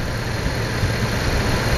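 A car running on 87 octane fuel with a homemade hydrogen on demand system idles in a steady, smooth, continuous drone, close and unbroken, with no knocking or talk.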